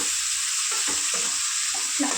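Salted flat green beans fry in hot oil in a pan, a steady loud sizzle with soft scraping stir strokes layered on top.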